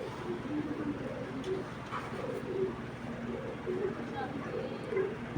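A female racing pigeon from a racing club coos in steady repeated low notes against constant background noise, with a voice talking through much of it.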